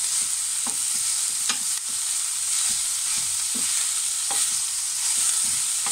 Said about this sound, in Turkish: Bunları da karıştırarak pişmelerini sağlıyoruz.